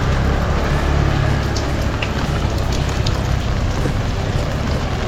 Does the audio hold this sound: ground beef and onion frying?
no